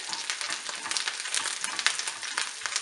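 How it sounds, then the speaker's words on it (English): Chopped parsley frying in a pan over low heat gives a steady, fine crackling sizzle with quick little pops, close and continuous throughout. "and just fry it for 1 minute"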